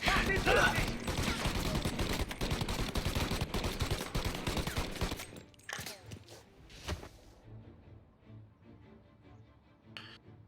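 Gunfire in the Mafia video game: a dense, rapid burst of shots lasting several seconds, then a sudden stop, followed by a few scattered single shots and quieter noises.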